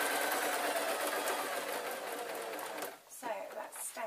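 A sewing machine runs steadily while stitching a painted hedgehog tote bag, a continuous close whirr that stops abruptly near the end, followed by brief handling noise.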